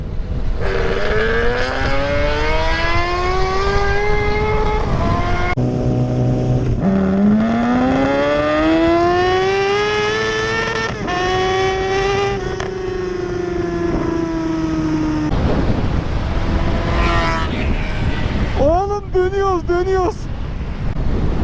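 Four-cylinder sport motorcycles, a Kawasaki ZX10R and a Honda CBR650R, on a night ride, engines climbing through long high-pitched revs and gear changes, loud and near with wind rush, then a brief voice near the end.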